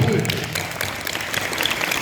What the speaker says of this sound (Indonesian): Tepuk tangan untuk orang-orang hebat.